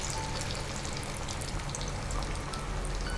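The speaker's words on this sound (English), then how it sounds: "So oil is heated on medium heat. Let us drop in our corn pakodas." Corn pakoda fritters frying in oil heated on medium heat, with a steady dense sizzle and crackle like light rain that holds at an even level throughout, and no voices.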